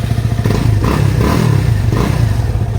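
A Yamaha FZ25 motorcycle engine and exhaust run close and loud in a steady, throbbing rumble with a rapid pulsing beat and no voices.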